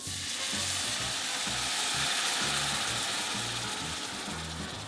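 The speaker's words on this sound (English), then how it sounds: "we're just going to deglaze now with a little bit of white wine" Mushrooms and onions sizzle loudly in a hot pan as white wine hits it, a dense frying hiss with a rhythmic scraping and stirring underneath, close and continuous.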